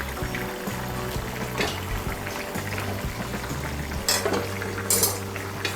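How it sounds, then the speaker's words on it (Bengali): A spoon stirs garam masala powder through a katla fish curry with potato, cauliflower and lentil dumplings. The pot gives a steady scraping and swishing up close, with soft clinks of metal against metal. "গরম মশলার গুঁড়োটাকে ভালো করে মিশিয়ে নেব।"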